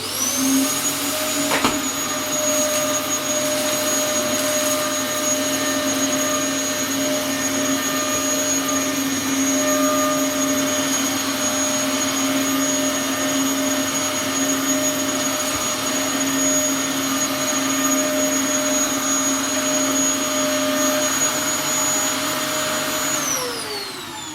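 A Dyson DC07 Origin upright vacuum cleaner runs steadily with a loud, even motor whine and airflow hiss, holding a constant pitch for the whole stretch before a slight drop near the end.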